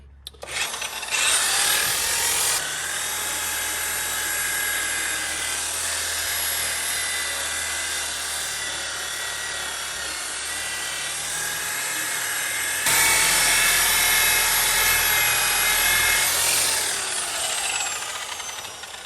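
A high-speed polisher whines loudly and continuously as it buffs compound into fiberglass boat gelcoat at full RPM, its pitch and load shifting slightly as pressure changes, with no talk.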